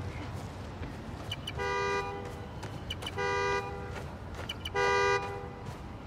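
Three evenly spaced car horn honks, each about half a second long, sound in Spider-Man: Miles Morales over a steady city background hum with no voices.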